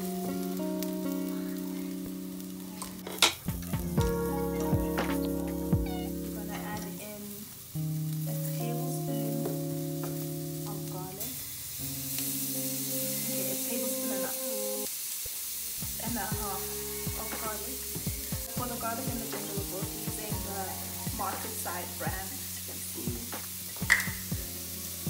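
Chopped carrots go into a pan of browning onions, and a steady sizzle of frying vegetables carries on with light stirring clatter throughout.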